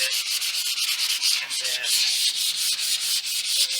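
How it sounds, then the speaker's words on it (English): Rhythmic back-and-forth sanding strokes rasp against painted metal on a Toyota 4Runner body panel, close and steady, with a quick word spoken at one point. "So I'm going to try sanding it down a little bit"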